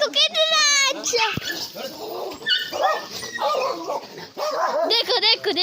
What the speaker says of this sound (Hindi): और ये सारे कुत्ते हैं, बहुत गंदे गंदे।